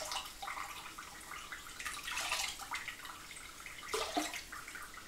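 About 150 ml of water is poured for a risotto, a near, uneven trickling and splashing stream with a couple of heavier gushes toward the end.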